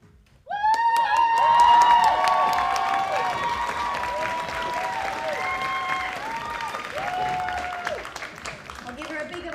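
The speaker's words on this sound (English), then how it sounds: "I'll give her a bigger round of applause" An audience breaks into sustained applause with some cheering at a junior pageant competition in the UK, starting abruptly and staying loud and dense throughout.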